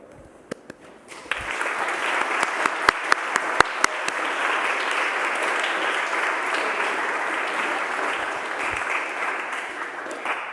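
Audience applause at an Eagle Scout Court of Honor, opening with a few scattered close claps before swelling into sustained, even clapping from a large crowd that carries on steadily.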